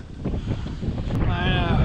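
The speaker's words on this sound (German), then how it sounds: "Der Wind nimmt zu." Strong wind gusting outdoors in a small German village, a steady broadband roar buffeting the microphone across the whole stretch with no voices.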